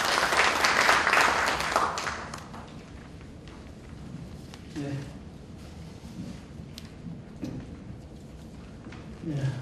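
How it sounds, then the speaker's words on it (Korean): Applause from an audience at an extraordinary general meeting of a federation of business associations, loud and dense at first, then thinning into scattered claps over murmuring and low room noise for several seconds. "큰 박수 부탁드리겠습니다"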